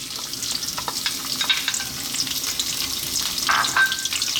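Onion dropped into hot sunflower oil in a wok for garlic ginger cabbage, a lively close sizzle and crackle with bursts of stirring, no voices.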